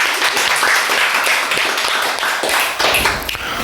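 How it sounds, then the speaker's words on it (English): Loud, sustained applause from a crowd, dense clapping filling the whole stretch with no voices on top. "Everybody give a round of applause for my queen."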